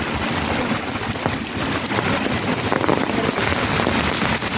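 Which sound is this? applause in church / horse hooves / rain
rain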